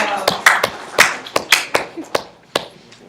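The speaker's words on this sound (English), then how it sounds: "round of applause, round of applause for Kayla." A small group claps for a student at a training session, a sparse round of about a dozen distinct, sharp claps in an uneven rhythm, close by and fading out after about three seconds.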